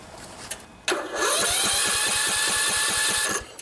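A single-cylinder Briggs and Stratton OHV engine cranks briefly, then catches and runs with a steady, loud, rapid chugging beat close by, with no talking.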